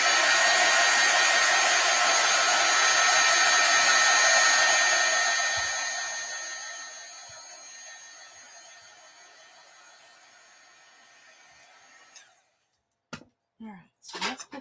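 Heat tool drying Oxide ink on a card, a steady loud broadband whoosh that fades out over several seconds and stops, followed by a few brief soft clicks and rustles.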